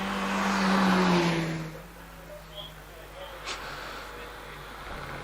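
Mazda MX-5 1600cc race car climbing a hillclimb course, its engine rising loudly in the first two seconds then fading into the distance, with a faint background noise remaining.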